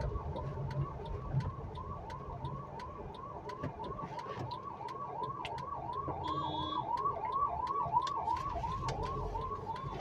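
An ambulance siren wails in a steady, repeating rise-and-fall cycle through market-area traffic, loud and continuous over the rumble of road noise, with a brief high horn-like tone partway through.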